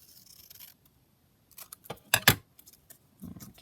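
Scissors snipping junk journal paper, a few sharp crisp cuts bunched in the middle alongside light rustling and handling noise, with quiet stretches between.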